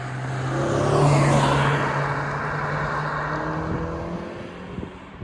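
A Renault Clio RS hatchback engine revs up and passes with a rising, then fading exhaust roar, and a few pops and crackles near the end.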